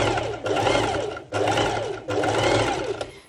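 A sewing machine runs a straight stitch through bikini top fabric in three steady bursts of whirring, split by brief pauses, loud and close.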